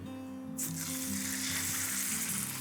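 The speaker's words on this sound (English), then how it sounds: "And then we'll cook off our backstrap." Lamb backstrap hits hot oil in a pan, bursting into a loud, close sizzle after a moment of quiet and then holding as a dense, steady crackling hiss.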